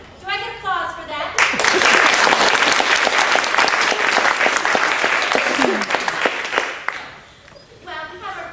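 An audience applauds during a stage play, a hearty burst of many hands clapping that swells for about five seconds and then fades, with a voice heard before and after it.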